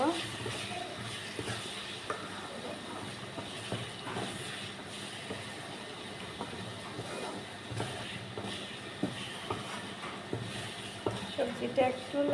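Vegetables frying in a pan for vegetable khichuri, a steady close sizzle and hiss with scattered light scrapes and clicks that grow busier toward the end.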